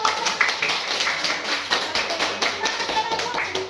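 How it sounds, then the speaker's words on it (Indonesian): Students applauding in a classroom lesson, a quick burst of brisk, close hand claps that carries on steadily for a few seconds with no talk. "Tepuk tangan buat"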